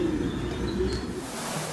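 A racing pigeon coos softly and close by in a low, steady murmur that runs for under two seconds, with no voices over it.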